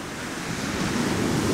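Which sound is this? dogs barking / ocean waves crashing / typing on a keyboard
ocean waves crashing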